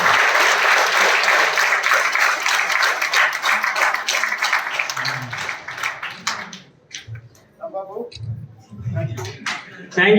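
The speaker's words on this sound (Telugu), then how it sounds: "క్లాప్స్ కొట్టండి అందరూ గట్టిగా ఒకసారి." An audience at the opening of a free coaching centre claps loudly and steadily, and the applause thins out after about six seconds as a few voices and scattered claps follow.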